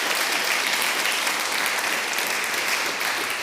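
Sustained applause from a conference crowd, many hands clapping in a thick, even wash that holds at a constant level throughout, with no speech over it.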